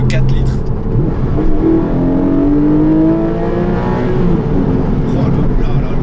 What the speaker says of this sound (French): ce Boxster 718 GTS qui a un moteur atmosphérique et pas n'importe lequel, un flat 6 de 4 litres